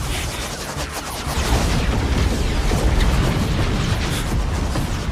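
Cannon fire and explosions boom continuously in an animated battle in Soul Land, a dense, loud wall of rumbling blasts with no clear gaps.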